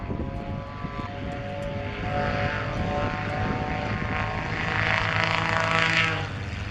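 Propeller aircraft fitted with an MT reversible pitch prop and a Titan 340 engine racing at an air show, its steady loud engine drone swelling toward the end, continuous throughout.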